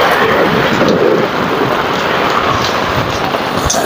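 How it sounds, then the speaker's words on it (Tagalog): Heavy typhoon rain pours down outside a small shop during a power outage, a loud, dense, continuous roar of rainfall on surfaces, steady and close, with no talking. "Grabe, ang lakas ng ulan."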